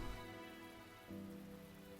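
Steady rain in the video game Grisaia Chronos Rebellion, a soft continuous hiss that runs the full length alongside sustained background music tones, with no talking.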